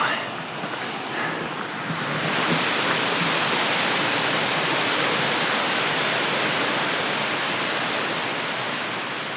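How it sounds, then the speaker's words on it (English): A waterfall on a hiking trail roars as a steady, loud broadband rush that swells after a couple of seconds and then holds constant. "Oh, these waterfalls are so pretty."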